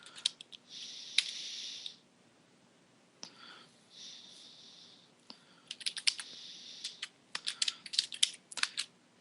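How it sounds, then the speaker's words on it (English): Computer keyboard typing in bursts of rapid clicking keystrokes with pauses between, close up and crisp, alone without talk. "And some more boring typing."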